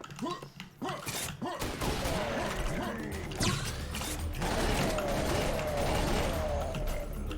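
Pistol fire in the shooter game Serious Sam 3: repeated sharp shots mixed with clanking mechanical game effects, loud and steady, with people talking over it.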